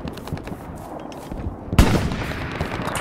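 A single loud anti-tank gun shot fires in Hell Let Loose, a sharp close blast with a rumbling tail that follows a stretch of quieter battlefield ambience.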